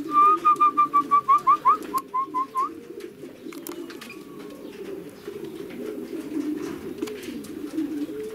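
Racing pigeons at a loft after a 427 km race give a rapid series of close, loud rhythmic coos and whistly calls, then softer murmuring and faint rustling continue in the background without speech.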